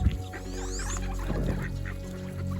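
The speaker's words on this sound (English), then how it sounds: "As I pop down to see the ducks at the beach" Ducks and geese at a beach honk and quack loudly nearby in a steady, overlapping chorus, with no talking.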